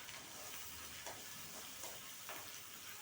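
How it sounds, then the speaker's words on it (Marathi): Onions and masala fry in oil in a pan while being stirred, giving a soft, continuous sizzle with a few gentle scraping strokes at intervals, low in level. "कांदे आणि मसाला छान एकत्र फिरवून घेत आहे मी."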